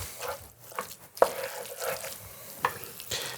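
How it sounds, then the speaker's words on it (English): Thick deviled crab filling with hot sauce being stirred in a bowl, giving soft wet scraping and sloshing strokes with a couple of sharper clicks, close and fairly quiet. "Stir this up to combine."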